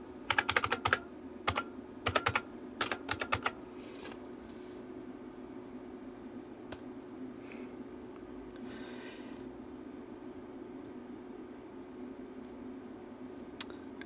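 Someone types a password on a computer keyboard while setting up a WD My Passport Ultra Metal Edition 4TB drive: a quick burst of close, crisp key clicks in the first few seconds, then sparse single taps over a low steady hum.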